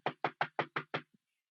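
A caller on an emergency line bangs heavily on something to answer yes, six loud, evenly spaced knocks in quick succession followed by a faint tap, close and alone.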